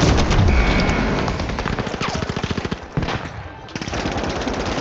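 Rapid automatic gunfire in The Finals rattles in fast repeated bursts, loud and close, with a brief pause and short boom before the shooting resumes under a dense game mix.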